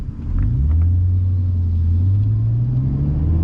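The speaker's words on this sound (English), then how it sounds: "Nice little Porsche Targa here, Targa S, 996 maybe" A Porsche 996 Targa S passes nearby with a steady, deep engine rumble that swells slightly as it goes by, the drone holding loud throughout.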